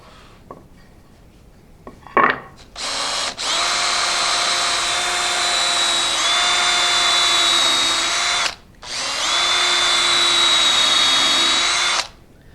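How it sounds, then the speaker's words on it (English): A power drill bores holes in a wind chime hanger for its string, after a few light knocks. Two long, steady, high whining runs are separated by a short pause, close and loud, with no talking. "the first thing that I should do is get these holes drilled, which will be for the string to go up for the hanger"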